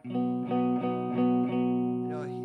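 A guitar bar chord strummed four times in a steady rhythm, the last strum left ringing while a brief slide squeaks across the strings.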